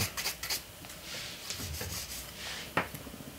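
Gel nails being filed with a hand nail file: a steady, close scratchy rasping in repeated strokes with a few sharper scrapes, no talking.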